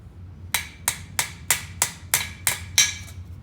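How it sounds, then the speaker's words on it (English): A hammer strikes metal eight times in a steady rhythm, each blow a sharp, loud, close ringing hit that quickly decays, with no talking. "You only want to hammer until that gap is closed."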